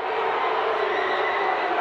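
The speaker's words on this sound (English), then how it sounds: "You hear the Massillon fans really booing there." Massillon high school football fans in the stands raise a sustained, even roar of disapproval, a dense wash of crowd noise with no break across the short span.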